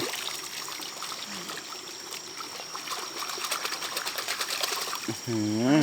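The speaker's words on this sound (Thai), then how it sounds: "ล้างน้ำให้สะอาดเลยครับ" Vegetables being rinsed under running water outdoors in a rural Thai setting, a steady close trickle and splash running throughout, with a brief voice near the end.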